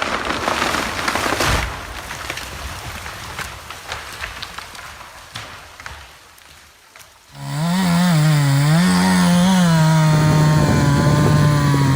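An MS-462 chainsaw cutting into a big tree: crackling wood and breaking debris come first, then the saw kicks in loud and close with a steady high whine that wavers slightly as it bites.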